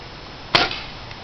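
A Crosman Legacy 1000 air rifle fires one sharp, close crack aimed at a cup indoors, followed by quiet room tone.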